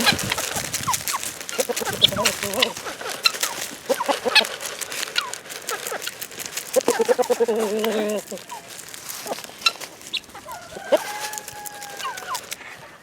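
A flock of chickens, old and young hens together, cluck and chatter near and far while pecking at scattered seeds in a yard after an ice storm, with busy overlapping calls throughout.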